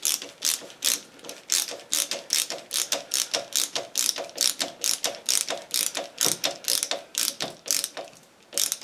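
A ratcheting screwdriver drives a screw into wood with rapid, regular ratchet clicks in quick bursts of strokes, loud and close, one burst after another for several seconds, with no talking.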